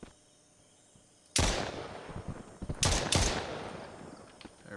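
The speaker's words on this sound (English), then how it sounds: "There we go. 3 shots." Gunfire in the survival video game Mist Survival: a loud sharp shot breaks a quiet background, followed by two more close shots in quick succession, each trailing off with reverberant decay.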